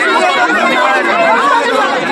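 A large crowd of student protesters outside a girls hostel in Hanumakonda shouts slogans, producing a loud, dense, continuous wall of overlapping voices close by.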